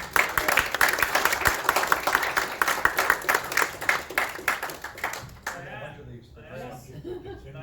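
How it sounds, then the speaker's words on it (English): An audience applauds with dense clapping for several seconds, then the clapping fades out as a voice begins speaking. "round of applause"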